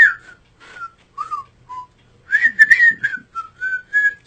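Someone whistles a tune from the 1973 animated Robin Hood, a clear, close melody of short phrases and pauses, followed by a brief lively run of notes, with no talking.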